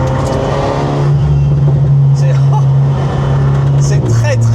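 Engine drone of an Alpine A110 Schirmer GT cruising at about 100 km/h, a steady low hum with tyre and road noise throughout, heard from inside the car while someone talks over it.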